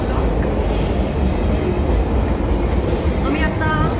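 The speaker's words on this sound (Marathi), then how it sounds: "आम्ही आता बेकरलो लाईनला चाललो आहे आणि खाली पिकाडेली लाईन जाते आहे" A London Underground Bakerloo line train running through a tunnel, a loud, steady rumble and rattle of wheels on track with squeaky metallic screeches toward the end, while people talk over it.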